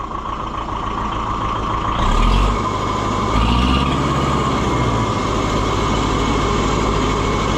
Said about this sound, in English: listen to that sweetheart purr. I mean, it runs great.